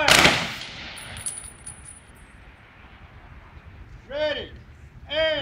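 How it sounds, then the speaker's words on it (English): Memorial Day ceremony rifle volley salute by an honor guard outdoors: a loud crack of volley fire at the start with reverberation, followed by shouted commands and further distant rifle reports. "Prepare to fire. Ready. Aim. Fire."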